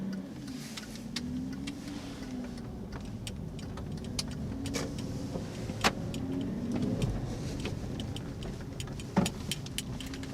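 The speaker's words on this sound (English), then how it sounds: "Nice sound of the engine, I like that." A 2015 Hyundai Genesis Coupe R-Spec's 3.8L engine runs in a steady, low, even rumble heard from inside the car, with scattered small clicks and ticks over it.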